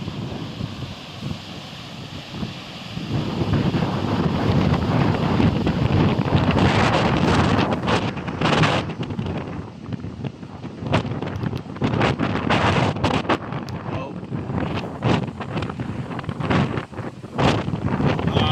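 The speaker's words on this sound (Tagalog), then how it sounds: "Masyadong malakas yung hangin." Strong typhoon wind on a seashore with rising waves buffets the microphone in loud, gusting roars with rushing air throughout, rising after a few seconds and staying intense with sharp blasts.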